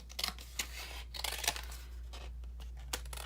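Scissors snipping through the glued edge of a saved cardboard box, a series of sharp crisp cuts and tearing rasps in irregular bursts, close and moderately quiet over a steady low hum.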